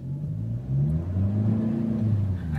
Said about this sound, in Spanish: pero vamos a salir acelerando